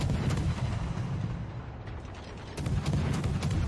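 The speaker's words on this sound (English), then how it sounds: "I am actually in concealment and I am shooting at the Yamato." Rapid naval gun salvos from an Akizuki destroyer firing on the battleship Yamato in World of Warships, a loud, dense run of repeated sharp reports over a constant low rumble, heavier again near the end.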